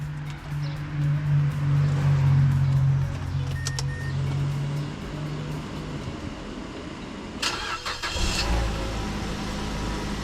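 A 2011 Mazda CX-7 engine idling steadily at close range just after a new timing crank sensor is fitted, with a brief burst of louder revving near the end.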